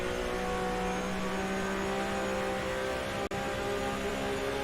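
Race car engine drones steadily from an onboard view on a lap of Road Atlanta in rFactor 2, a continuous loud hum with a brief cut near the end and no voices.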